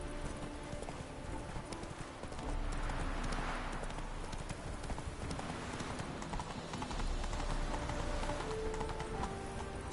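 Roach the horse from The Witcher 3 trots along with steady, close clip-clopping hooves that keep up a regular rhythm throughout, with no talk over them.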